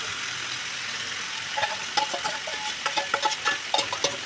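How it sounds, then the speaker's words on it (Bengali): Meat frying with onions for Mughlai chicken maharani in a pan, a steady close sizzle joined by rhythmic scrapes and clicks of stirring in the second half, no voices. "পেঁয়াজের সাথে মিক্স করে দেবো মাংস।"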